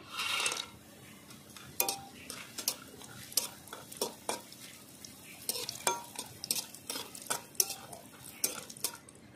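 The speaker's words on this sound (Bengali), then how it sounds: "বড়িগুলো ভাজা হয়ে গেছে, তুলে নেব।" Lentil dumplings (bori) fry in oil in a wok, a soft background sizzle punctuated by frequent sharp clinks and scrapes of a utensil stirring against the metal pan.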